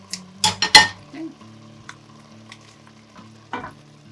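Beef liver drops into a hot pan with a few sharp clattering hits and then sizzles quietly, with light stirring and utensil clinks against the pan.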